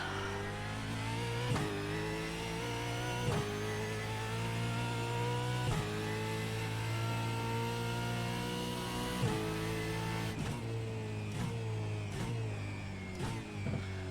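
A Supercar racing engine in the iRacing video game at Detroit Belle Isle revs hard on throttle, a steady high-pitched whine that drops sharply at each gear change, with a quick run of shifts toward the end.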